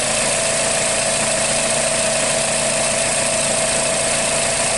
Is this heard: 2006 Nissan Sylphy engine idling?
yes